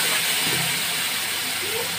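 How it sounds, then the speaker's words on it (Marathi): Green chilli and Maggi noodles frying in a pan give a steady, dense hiss that holds at an even level from start to finish, with faint background noise and no break in the sizzle. "याला मस्त असं फ्राय करून घेऊया।"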